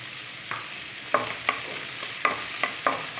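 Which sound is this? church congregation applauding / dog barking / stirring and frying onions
stirring and frying onions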